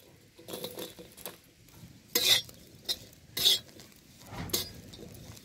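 Green chillies roasting in a pan over a wood-fired chulha, with intermittent scraping and stirring clatter of a utensil in the pan, several sharp metallic scrapes standing out over a faint low background.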